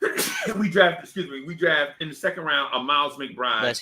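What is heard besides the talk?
sneeze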